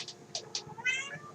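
A house cat meows in several short, close calls that end in a longer, drawn-out meow, heard alone in a quiet room.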